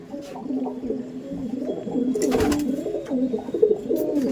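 Pigeons in a loft coo in soft, repeated low warbling calls, several overlapping birds close by, with a brief rustle of wings midway.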